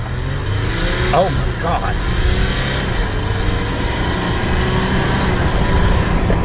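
A 2021 Jeep Gladiator 4x4 diesel engine accelerating, a steady loud drone rising under a brief startled exclamation from a man inside the truck.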